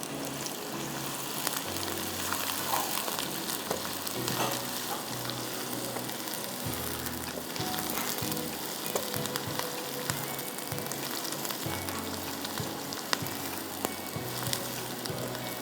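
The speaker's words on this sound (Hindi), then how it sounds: "थोड़ा सा प्याज को फ्राई करना है" Onions fry in a pan with a steady, crackling sizzle, close and continuous, punctuated by occasional stirring clicks and scrapes, with no talking.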